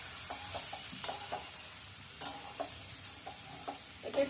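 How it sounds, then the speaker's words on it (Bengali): Spices with green chilli and a reduced amount of chilli powder are stirred and fried in a pan. Repeated scraping spatula strokes ride over a steady low sizzle, close and clear, with no talking. "এটা একটু ভালো করে নেড়ে ছেড়ে ভেজে নিব"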